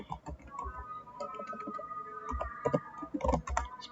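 Fingers tap out a command on a computer keyboard, irregular clicking keystrokes with a few heavier thumps, mixed with a faint humming tone in the background.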